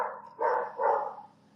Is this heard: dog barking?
yes